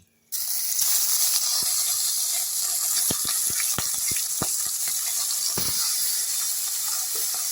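Small fresh charapona fish hit a hot karai over a gas flame and burst into loud, steady sizzling, with scattered sharp crackles and pops continuing throughout.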